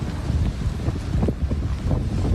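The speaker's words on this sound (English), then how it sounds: "we saw the wind pick up here, the fire edging closer and closer" Strong wind blowing near a bushfire, a loud, steady roaring buffet with gusty low rumbles and microphone wind noise, no voices.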